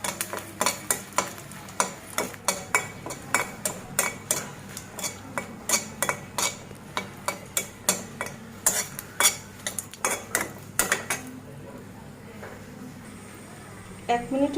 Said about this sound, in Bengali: শুকনা মরিচ আমি ভেজে নেব এই শাক ডাউলের মধ্যে দেওয়ার জন্য